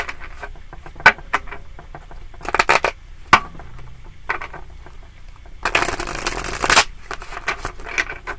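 Tarot cards are shuffled in several short bursts of riffling and flapping, with a few sharp taps and quiet pauses between them, close and fairly soft.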